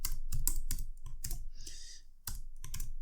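Rapid keystrokes on a computer keyboard while entering a CSS font size property, coming in close, crisp bursts of clicks with short pauses between them.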